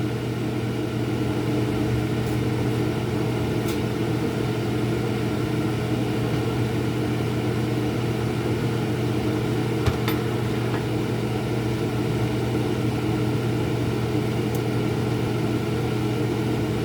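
A loud kitchen vent fan runs steadily beside an oven where a puff pastry quiche with ham and vegetables is baking, a constant even hum with a faint click or two and no talking.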